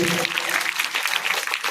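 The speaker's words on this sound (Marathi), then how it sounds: "एकदा जोरदार टाळ्या झाल्या पाहिजे त्यांच्यासाठी" A crowd claps for a donor at a village school's annual gathering, a dense burst of applause from many hands with voices mixed in.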